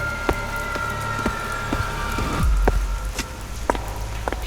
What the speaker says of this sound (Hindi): कुछ पल की खामोशी, सिर्फ बारिश की आवाज गूंजती है।